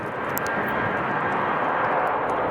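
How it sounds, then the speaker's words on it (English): A jet airliner with CFM engines roars at Chicago O'Hare on a crosswind day, a steady broad engine rumble heard at a distance, unbroken and alone. "Listen to those CFMs going at it."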